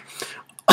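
A single short throat-clearing cough from someone recovering from a cold, close and abrupt, following a brief soft breathy sound.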